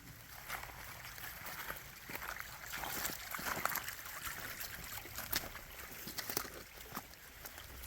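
A small creek trickles and gurgles on a rainy hike in the Red River Gorge, faint and steady, with soft scattered drips and splashes over a quiet, continuous flow.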